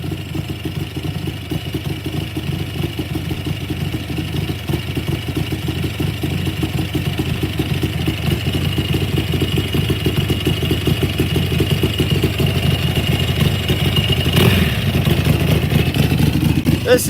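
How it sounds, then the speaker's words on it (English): Harley-Davidson and metric drag bikes idle and rev at a dragway, making a continuous rumbling engine drone with rising revs and a sharp burst near the end, under distant crowd and announcer noise. "Great to see the Harleys out here playing with the metric bikes"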